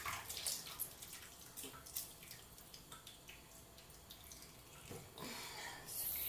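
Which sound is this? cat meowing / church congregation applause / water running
water running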